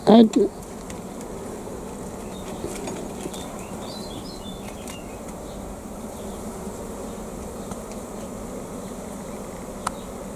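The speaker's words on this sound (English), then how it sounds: "There's a fair number of bees in that hive." Honey bees at a hive kept by a beekeeper in Lurgan make a steady, soft, diffuse buzzing hum that runs throughout. A short louder burst comes near the start.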